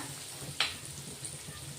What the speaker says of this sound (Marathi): फोडणी छान परतून घेणार आहेत आपण हे बघा फोडणी कच्ची नको राहायला